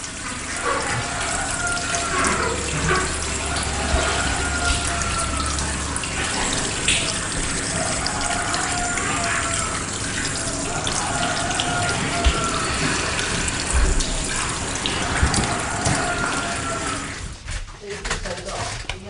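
Shower water runs steadily in the Big Brother house, a constant close hiss filling the whole stretch, with faint voices underneath and a brief drop near the end.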